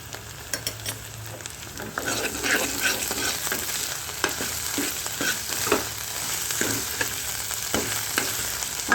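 Onions frying in a pan until golden brown, with ginger and green chillies, for sweet potato kofta curry: a constant close sizzle broken by repeated spatula scrapes and stirs, growing slightly louder after the start.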